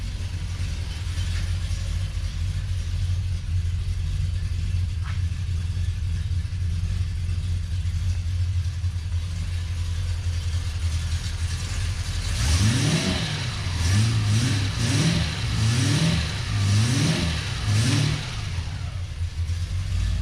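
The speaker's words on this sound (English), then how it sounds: "Warm start on a 1973 Series III E-Type." A warm 1973 Jaguar E-Type Series III V12 idles with a deep, steady rumble. Near the end it is revved in about five quick, rising blips that fall back between each.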